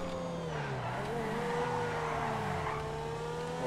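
Grotti X80 Proto hypercar cornering in GTA V, a steady engine drone with shifting pitch and faint tire scrub running throughout, moderately loud and close.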